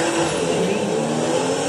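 A car engine in the GTA 5 video game revs hard and steadily, loud and close for the whole moment, with no talk over it.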